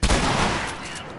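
A shotgun blast in The Last of Us bursts out loud and sharp, followed by a roaring, decaying echo that stays dense through the rest of the moment.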